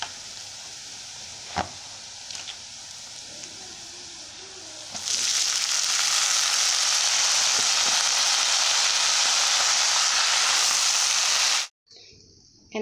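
Rice being fried and stirred in a pan with already-browned onions and salt, no water added: a loud, steady broadband sizzle that starts abruptly after a few quiet seconds of faint clinks, holds close and even, then cuts off briefly near the end.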